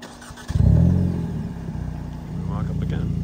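A Hyundai Elantra N engine cranks and catches with a sharp burst, revs up briefly, then settles into a steady, throaty idle, close and loud, while a voice talks over it.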